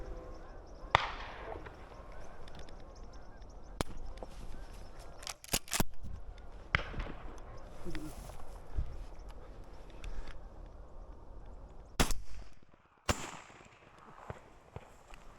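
Sharp, distant shotgun reports ring out during an opening-day public-land duck hunt in northeastern Colorado, several isolated cracks spaced irregularly across a breezy outdoor background, with a couple of louder, closer-sounding bangs near the end.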